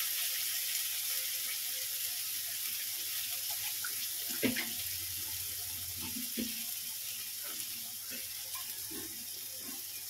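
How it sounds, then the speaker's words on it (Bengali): Water tipped from a bowl into a cooking pot holding dried chillies, bay leaves and ground spice paste, a steady close pouring and splashing wash running throughout with a few brief clinks. "এই যে বাটি দেওয়া জলটা দিয়ে দেবো।"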